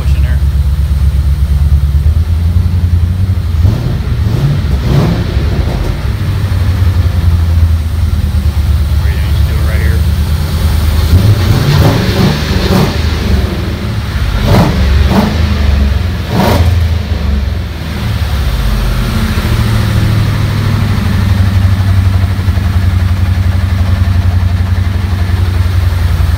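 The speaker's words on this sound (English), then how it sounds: "I really like those Magnum flows. Really nice sound." A rat rod truck engine runs loud and continuous through Magnum flow exhausts, with low rumbling throughout and several sharp rev bursts around the middle; a person talks over it at times.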